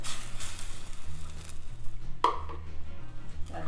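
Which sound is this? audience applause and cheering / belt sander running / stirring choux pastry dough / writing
stirring choux pastry dough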